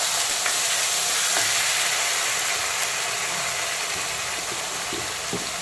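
Onion paste and slit green chillies fry in oil with bay leaf and black cumin for a Bengali doi pabda, giving a steady, loud, close sizzle with scattered scraping stirs and no talking.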